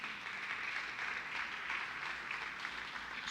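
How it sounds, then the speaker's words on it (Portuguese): A church congregation applauds together in a steady, continuous wash of clapping that holds for several seconds, fairly distant and even, with no talk over it. "Dá um aplauso a Ele."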